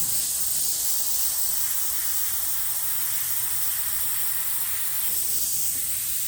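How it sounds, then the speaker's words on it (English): A black airbrush sprays paint in a steady, continuous hiss that holds close and even throughout, with no voices and only a slight dip near the end. "I think I'll just do that with black airbrush."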